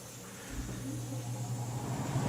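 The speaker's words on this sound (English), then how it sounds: "there's the indoor blower motor" An indoor HVAC blower motor with a bad capacitor spins up as a steady low hum and broadband airy whoosh, building slightly in loudness over a couple of seconds with no talk.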